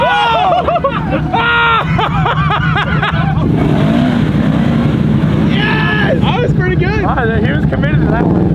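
A Can-Am off-road vehicle revs hard in thick mud at a Texas mud park while pulling reverse wheelies, its engine roaring steadily under loud crowd shouting and cheering throughout.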